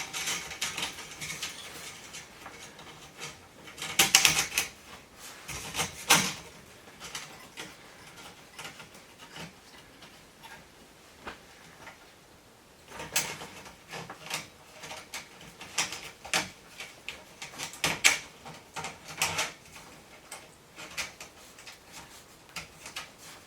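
Small hose clamps being fitted and tightened on a diesel heater during a UTV install, giving scattered quiet ticks and clicks with a few sharper bursts, close up, with no talking.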